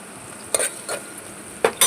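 Sliced onions sizzling with salt in a pan while a spoon stirs them, several short scraping strokes over a soft steady fry.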